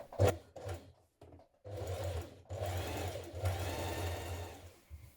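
A sewing machine topstitches a band onto a sweatshirt: a few short stuttering bursts of stitching, then a longer steady whirring run, close and clear with no talk.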